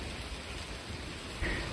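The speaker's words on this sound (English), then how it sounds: "It's now raining, but it's not raining too badly" Steady rain falling outside a 1940s country home, a close, even hiss of drops with a brief louder patter near the end and no talking.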